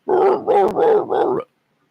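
A dog gives four short, close barks in quick succession, loud and clear, with no other sound around them.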